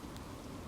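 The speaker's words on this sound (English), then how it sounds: "It's just started raining now." Rain just beginning to fall outdoors beside a fishing spot makes a soft, steady, even hiss, fairly faint and unbroken, with no one talking.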